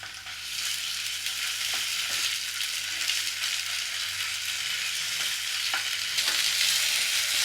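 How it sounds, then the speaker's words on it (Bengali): Chopped onions with ginger-garlic paste fry in a pan, giving a steady, close crackling sizzle broken by occasional scraping stirs over several seconds. "পেঁয়াজ কুচিগুলো একটু ভেজে নিই এবার এর ভেতরে আমি দিয়ে দেব আদা বাটা"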